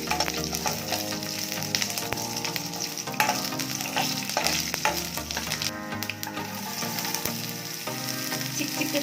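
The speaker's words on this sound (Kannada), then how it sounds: "ಮೆಣಸು ಹಾಕೊಳ್ತಾ ಇದ್ದೀನಿ, ಕೆಂಪು ಮೆಣಸು ಒಗ್ಗರಣೆಗೆ." Red chillies fry in oil for a tempering for a spinach and fenugreek sambar, making a loud continuous sizzle with frequent crackles, close and unbroken for the whole stretch.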